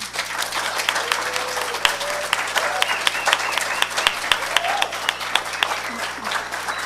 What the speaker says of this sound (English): if you would all now please join me in a round of applause